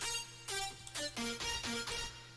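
Plucky synth lead playing a short melodic phrase of several clipped, bright notes in a rhythmic pattern, dry and upfront with no effect applied, alone without talking.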